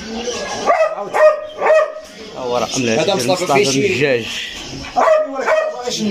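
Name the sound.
dogs barking at a dog market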